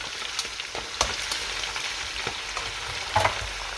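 Chicken pieces browning in a pan for a French chicken fricassee, heard as a steady close sizzle broken by a few sharp pops and crackles, with no voices.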